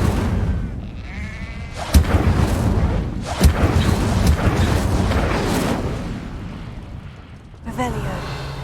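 An Incendio fire spell cast in the Hogwarts Legacy video game gives a loud roaring burst of flame with sharp cracking hits, over game noise and a brief voice.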